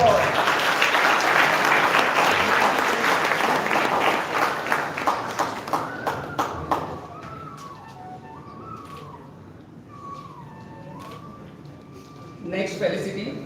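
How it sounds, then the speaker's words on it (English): Applause at a school toppers felicitation ceremony, a crowd clapping steadily then thinning into scattered claps as a voice speaks over a microphone. "Give a big round of applause."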